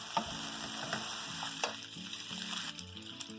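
Ingredients for a walnut gravy sauté in a pan with a soft, continuous sizzle, broken by occasional clinks and scrapes of stirring, faint and close.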